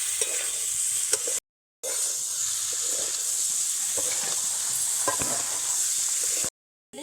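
Cauliflower fries with ground spices in a wok as it is stirred, a steady sizzle and hiss broken by scraping stir strokes, with two short silent gaps.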